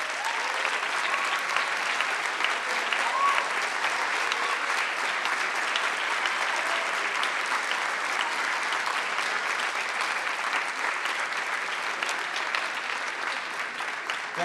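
Sustained audience applause at a high school spring band concert by the HHS Big Red Cardinal Band, a dense, steady wash of many hands clapping from start to finish.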